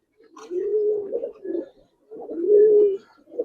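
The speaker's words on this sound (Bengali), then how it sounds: "এক জোড়া তাম্বালাল কবুতর দেখেন" A pair of Tambalal pigeons give two drawn-out, throaty coos in close succession, each a low rolling burst separated by a short pause, heard near and clear with no talking.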